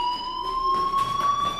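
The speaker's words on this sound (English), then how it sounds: "do you hear that fire alarm?" Fire alarm in the Life is Strange game, a loud, continuous electronic tone with steady harmonic whine, joined partway by rhythmic pulsing bursts, close and clear with no voices.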